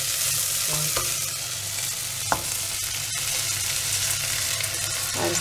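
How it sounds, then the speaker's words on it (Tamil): Washed rice dry-roasting in a pan for paneer pulao, a steady hissing crackle with scraping stir strokes and a sharp utensil tap near the middle, close and continuous with no talk. "அரிசி வறுத்து"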